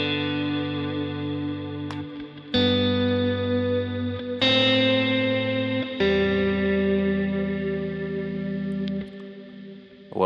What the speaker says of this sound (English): I've got the chroma verb going here.